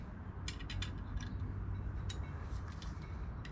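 Bolts being tightened with a ratcheting tool on a boat fitting aboard a Hallberg Rassy 54 sailboat, a run of quick metallic clicks then a few scattered creaks over low background hum, fairly quiet and close.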